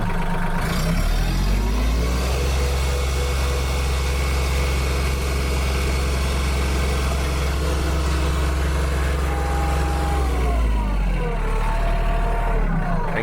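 A vehicle engine pulls steadily in low gear while hitched near a trailer on a farm feed run, giving a loud, continuous low rumble with revs that dip and climb near the start and end.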